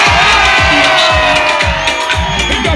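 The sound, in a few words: audience applause and cheering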